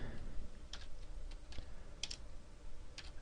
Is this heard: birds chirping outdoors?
no